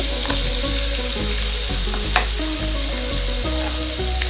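Beef sizzles loudly in hot oil with fried garlic in a pan, a continuous crackling fry punctuated by regular scraping knocks of stirring.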